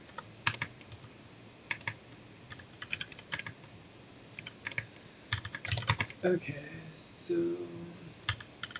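Computer keyboard typing while coding, scattered close keystroke clicks and short bursts, with someone briefly speaking near the end over faint room noise.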